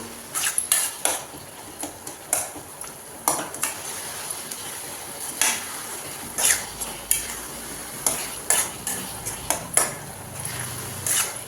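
A spoon scraping and clanking against a pan while bread halwa is stirred in ghee, with repeated irregular metallic knocks over a faint sizzle, close and fairly quiet.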